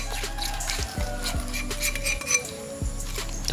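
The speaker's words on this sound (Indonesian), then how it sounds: "kemudian kita aduk guys, kita aduk" Sausage seasoning is stirred in a bowl with a utensil, giving a run of close, quick clinks and scrapes against the bowl over a steady low background hum, with no talking.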